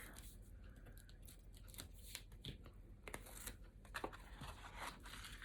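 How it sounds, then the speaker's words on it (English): Tape peels off a card blank with quiet crackling, tearing rasps and scattered sharp ticks, close and faint in a quiet room with no talking. "Just take these tape off."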